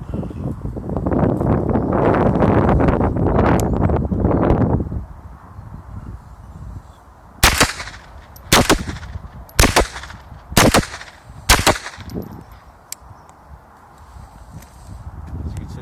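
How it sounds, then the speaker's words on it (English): A Smith & Wesson M&P 15-22 rifle with a standard muzzle brake fires five quick, loud, sharp shots about a second apart, after several seconds of rough wind and handling noise outdoors. "So I'm going to have a quick 5 shots now."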